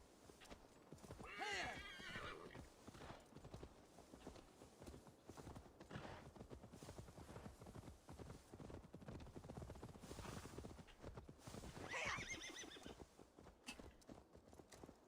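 Hooves clip-clop steadily as a horse moves in Assassin's Creed Valhalla, with two loud neighs breaking through near the start and again toward the end, and talk running over the scene.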